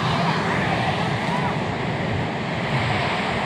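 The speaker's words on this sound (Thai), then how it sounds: "โอ้เสียงน้ำดังชัดเจนมาก" Loud, steady rush of a mountain stream in the hills of Mae Suai, Chiang Rai, a dense broadband roar that fills the whole stretch with no pauses.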